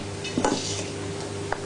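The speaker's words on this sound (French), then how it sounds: "Et là il ne faut pas avoir peur de remuer." Melted chocolate mixture being stirred briskly in a bowl for a chocolate-chicory honey cake, with scraping and clinking of utensil against the bowl, a couple of louder knocks mid-way, close and fairly quiet.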